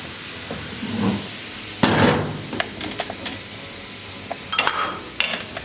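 Steady frying sizzle of garlic tempering in a pan, with a spoon stirring and scraping against the metal in short bursts, close by.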